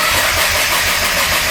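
A 2010 Nissan GT-R engine catches and runs at a steady, loud idle, its low pulsing rumble filling the whole short stretch with a broad hiss on top and no voices.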